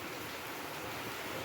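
Rain falling steadily through a full day of rain, heard as a soft, continuous hiss with no voices.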